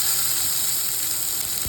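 Onions dropped into hot oil with garlic and ginger sizzle in a steady, loud, close hiss, the frying continuous and unbroken throughout.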